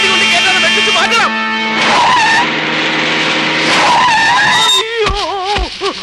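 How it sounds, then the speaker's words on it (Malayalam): A car swerves hard with tires screeching loudly in drawn-out, wavering squeals, close and intense, while voices shout over the skid. "വണ്ടി കൊണ്ട് കേട്ടാണ് വെട്ടിച്ച് മാറ്റണം."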